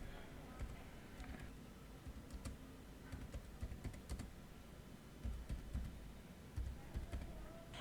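Typing on a computer keyboard while building a Scratch number game, soft irregular key clicks tapping steadily and fairly quietly through the whole stretch with no voice over them.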